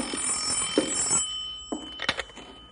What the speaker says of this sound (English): You want me to get the phone, Bill?